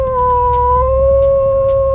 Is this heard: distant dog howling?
yes